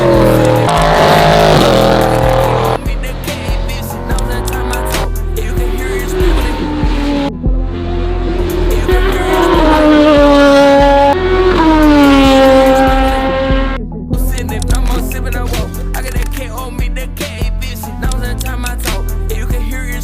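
Radical SR3 1500 race car lapping Road Atlanta during a private track day, its high-revving engine loud and close, climbing and dropping through gear changes with tire squeal, continuous with no gaps.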